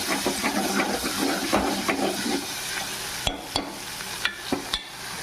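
Curry leaves hit hot oil in a pan while a chicken curry is being made, giving a steady dense sizzle and frying hiss that settles a little, with sharp stirring clacks from a utensil near the end.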